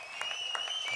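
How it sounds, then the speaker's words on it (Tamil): An audience at a stage event applauds, a brief burst of steady clapping from a crowd heard at moderate loudness. "இதை ஒரு நல்ல கைத்தட்டல் கொடுத்தே ஆனோமேனா"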